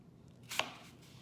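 A single quick knife cut into a pork chop on a board makes one soft, brief chop, close and faint against a quiet kitchen background.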